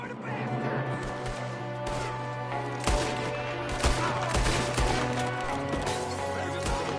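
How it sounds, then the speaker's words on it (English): Shots from an outdoor gunfight in Red Dead Redemption 2, scattered cracks and bursts over a steady game soundscape with a low hum, a few sharper blasts standing out. "There's another one shooting from the window."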